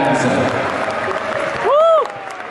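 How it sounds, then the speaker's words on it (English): Clapping from the crowd at a Taiko drum troupe performance, a diffuse patter heard under an announcer's voice, which rises into a brief whoop near the end. "please put your hands together for the Taiko drums forward"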